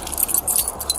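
Car keys jangle and clink close by in a short, continuous metallic rattle lasting about a second, with no talk over it.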